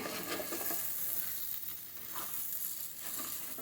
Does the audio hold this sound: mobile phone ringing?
no